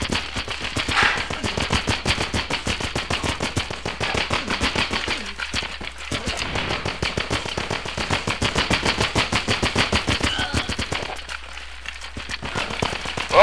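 Sustained automatic gunfire in the video game Running with Rifles, a nearly continuous rapid rattle of shots from several weapons, with a few short lulls before the firing resumes.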